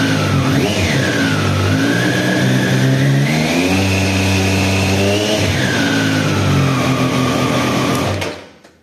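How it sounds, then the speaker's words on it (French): A 2024 Triumph Street Triple 765 R A2 motorcycle engine revs up steadily after starting, its pitch climbing and holding high before dropping back, loud and close, then cutting off abruptly at the end. "vous avez le régime moteur qui est accéléré, vous voyez."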